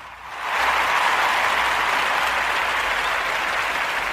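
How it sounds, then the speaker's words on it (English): A crowd breaks into loud, dense applause that swells within the first half second and then holds steady, a continuous roar of many hands clapping together with no talk over it. "All right, clap it up."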